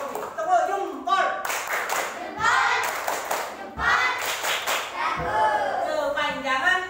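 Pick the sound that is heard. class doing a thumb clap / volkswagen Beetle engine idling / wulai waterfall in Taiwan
class doing a thumb clap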